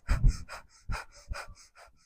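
Rapid rhythmic breath-of-fire breathing during a Kundalini yoga exercise, a series of short forceful pants in quick succession, close and fairly loud with no talking.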